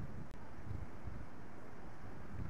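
Steady coastal wind rumbles and buffets the microphone, a constant low roar with no talking, near waves of about 6 to 10 feet.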